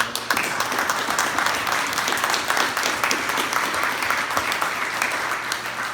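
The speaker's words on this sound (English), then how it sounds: "We owe her a round of applause." A steady round of applause from an audience at a mayoral debate event, dense and fairly close, continuing evenly for several seconds without speech.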